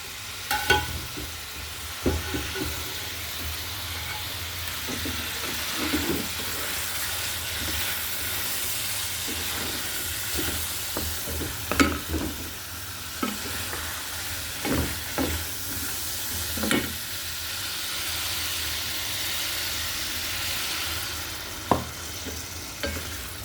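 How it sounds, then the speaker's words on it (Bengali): Fried fish being stirred and cooked down with tomatoes in a pan, a steady close sizzle with repeated scraping and stirring knocks throughout, no talking. "মাছগুলো প্রথমে তো আমি ভেজে নিচ্ছি, এখন আবার কষিয়ে দেব টমেটোর সাথে।"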